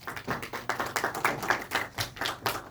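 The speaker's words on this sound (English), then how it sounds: "Please give him a huge round of applause." A small group clapping for a guest invited on stage at the Bodhgaya Global Dialogues, uneven rhythmic handclaps in quick bursts, fairly close and moderately loud, with no talk over them.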